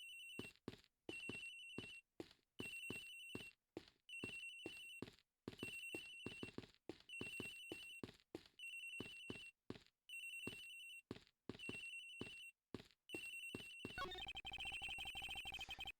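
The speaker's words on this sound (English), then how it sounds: "Agent Hicks' phone. It's ringing from somewhere, sir." An electronic telephone ringing in the video game Ace Attorney Investigations: repeated bursts of trilling rings in a steady pattern for about fourteen seconds, clear and alone, ending in a louder busy electronic tone.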